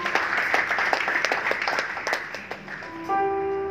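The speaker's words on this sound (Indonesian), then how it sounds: "Bisa berikan tepuk tangan dulu." Guests applauding at a wedding ceremony, a moderately loud patter of clapping that thins out over about three seconds before a sustained organ-like tone begins.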